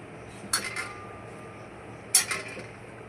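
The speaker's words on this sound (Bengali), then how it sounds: "তো ডিমগুলো আমি এখন এরকমভাবে মাঝখান থেকে পিস পিস করে নেব।" Two sharp clinks of a knife against a plate or bowl while peeled boiled eggs are cut in half, spaced about a second and a half apart over a quiet kitchen background.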